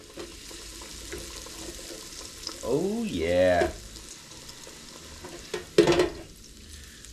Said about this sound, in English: See if it sizzles.